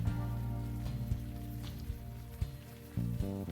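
Rain falls in the video game Unavowed as a steady, even hiss of drops on surfaces, with sustained soft background music tones underneath and occasional faint clicks.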